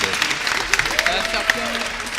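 An audience claps warmly at a beauty and hairdressing school ceremony as people are invited up, a dense burst of many hands applauding in a hall with a few louder claps, voices talking over it.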